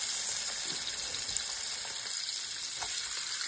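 Chopped onions fry in a hot pan alongside bagoong, giving off a steady, close sizzle with faint stirring.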